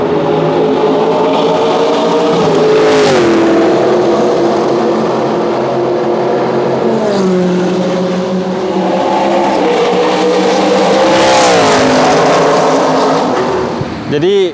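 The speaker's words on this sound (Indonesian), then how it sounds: "Jadi barusan mobil-mobil balap dari GT Asia yang memang bertepatan eventnya itu berlangsung bersamaan event balap MCS ya." GT Asia race cars pass by at a circuit racing event, engines roaring loudly with rising and falling pitch as they accelerate and shift, one pass blending into the next over a continuous drone, with voices in the background.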